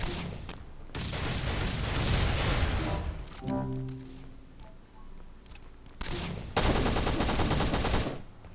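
Loud bursts of automatic gunfire in the survival video game Last Island of Survival, some long and sustained and others in short clusters, with brief quieter gaps between volleys.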